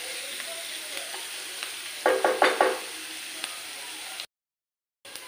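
Onions frying in a pan over high gas heat, a soft steady sizzle broken by a quick run of sharp scraping spatula strokes, close and without voices, ending in a brief silence.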